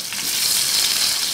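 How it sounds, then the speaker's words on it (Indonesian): Pindang fish crackle and hiss in hot frying oil with a dense, steady sizzle, close and fairly loud, and no voices. "kita panaskan minyak. seperti biasa untuk menggoreng. Selanjutnya kita masukkan pindang-pindangnya."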